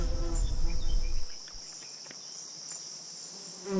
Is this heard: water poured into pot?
no